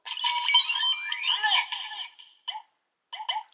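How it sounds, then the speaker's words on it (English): Electronic tones from a Kamen Rider Revice toy belt driver chirp and warble in a rising sequence, followed by a few short separate beeps with brief gaps between them. "this will pop, this will start beeping"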